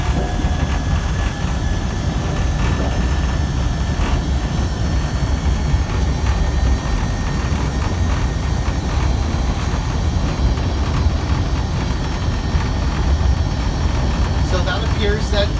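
A GEM electric car drives along at 25 mph, its steady road and motor hum filling the cabin at an even, constant level throughout.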